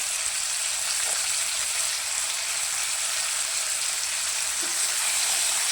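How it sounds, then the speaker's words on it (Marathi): Tomatoes and paneer frying in oil in a pan, a steady, close, even sizzle that hisses without pause for several seconds, no talking. "तर या तेलामध्ये आपण टोमॅटो फ्राय करून घेऊया। त्याचबरोबर पनीरही फ्राय करून घेऊया।"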